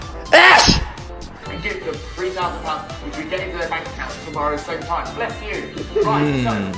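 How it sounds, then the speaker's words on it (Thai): One sharp, loud sneeze bursts out near the start of a Thai comedy broadcast, then gives way to continuous talking with a busy mix of voices and sound behind it. "เสียงจามได้ออกทีวี"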